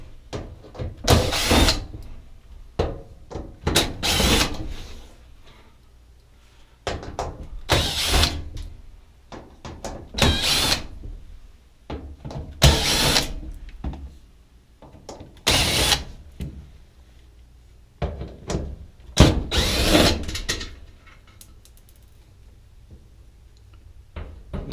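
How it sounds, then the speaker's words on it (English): A power drill backs screws out of a dryer, with repeated short whirring bursts separated by pauses, plus clicks and handling clatter, fairly close and loud. "Continue taking out the screws."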